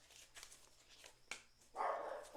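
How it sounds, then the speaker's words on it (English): Dogs bark indoors in short sharp bursts, a few separate yaps and a louder cluster near the end, moderately close over a quiet room. "Excuse my dogs, guys."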